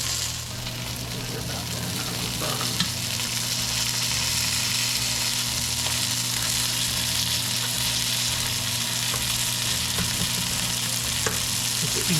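Fresh Ohio crappie fillets coated in Italian bread crumbs and flour pan-fry in olive oil, giving a constant close sizzle with a low steady hum underneath, occasional faint clicks, no talk.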